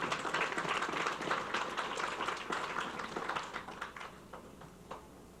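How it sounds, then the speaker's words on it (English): Applause for graduates at a healthcare university's first commencement ceremony, fairly quiet, scattered clapping from a modest crowd that gradually thins out toward the end. "A round of applause for these graduates."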